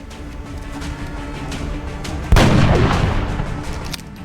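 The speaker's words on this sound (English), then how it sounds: "gotta see if the sniper can pick this one off" A single heavy sniper rifle shot in the strategy game XCOM Enemy Within, Long War mod, booms out sharply and rolls into a decaying tail over a low, steady game ambience.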